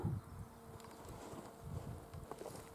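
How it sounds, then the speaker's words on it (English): A wasp buzzes steadily at close range, a low droning hum with slight wavering, against quiet outdoor background. "I'm looking because I can hear it but I cannot see it. The wasp."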